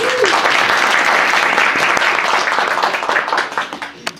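A seminar audience applauds together, a dense steady wash of clapping that holds for several seconds and then thins into scattered final claps; one brief voice is heard at the start.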